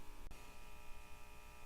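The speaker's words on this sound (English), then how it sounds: "If you hear a buzz in the background, it's fluorescent lights in my shop." Steady electrical buzz from fluorescent lights in a workshop, a low constant hum running throughout at modest level, broken once by a brief click.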